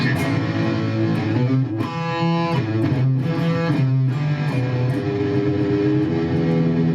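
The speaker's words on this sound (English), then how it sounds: "Let's see what metal distortion is" An electric guitar through a Boss Katana 100 amp on its metal distortion setting plays saturated chords and riffs with short breaks between phrases, loud and alone.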